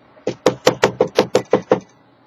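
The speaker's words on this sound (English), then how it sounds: "knock on the door." Nine firm knocks on a door in a steady, evenly spaced rhythm, close and clear against a quiet background with no talking.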